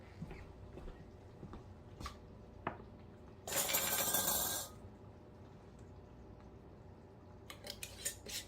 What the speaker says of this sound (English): So now I'm going to use my little magnet stick and go grab a lid out of the pot